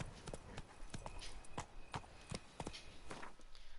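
Roach the horse's hooves clip-clopping in The Witcher 3, a steady walking rhythm of distinct hoof strikes, fairly close and moderately quiet, with no talk over them.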